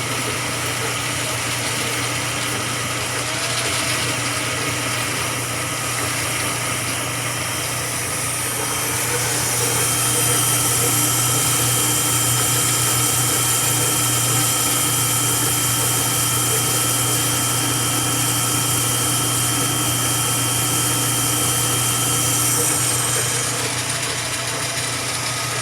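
Metal lathe running in a workshop, a steady close mechanical whir and grinding hum with faint rattling, continuous throughout and somewhat louder in the middle.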